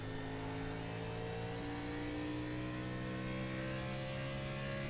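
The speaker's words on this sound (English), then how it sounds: "He is definitely going down into 3rd gear" A car engine in a sim racing video game, at Phoenix in the desert, runs at a steady high pitch with a strong buzzing tone and no break or talk over it.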